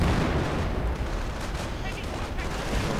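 Artillery fire in a strategy video game, a dense, continuous rumble of booming blasts and explosions that stays loud and heavy throughout, with speech mixed in.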